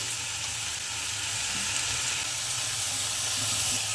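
Beetroot, carrot and onion sautéing in a pan, a soft continuous sizzle and hiss held steady and fairly quiet, with no voices.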